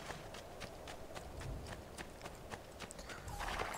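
Horse hooves clip-clop in a steady, quick rhythm as a rider travels on horseback in the video game Assassin's Creed II, fairly faint beneath a soft game backdrop.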